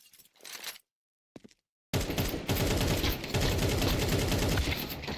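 Rapid, loud automatic gunfire fills a video game firefight, with a few brief shots and gaps first, then a dense continuous burst of fire.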